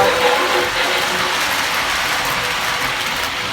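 A model train runs along a layout's track, a steady dense mechanical whirring and ticking of small gears and wheels, close and continuous at an even level with no talk.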